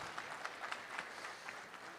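An audience at an evening meet-and-greet in the Bay Area claps in a brief burst of applause, heard faint and somewhat distant.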